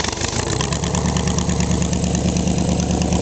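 A Studebaker rat rod engine runs steadily with a quieter exhaust, a close, loud, continuous idle-like rumble with an even pulsing beat and no talk.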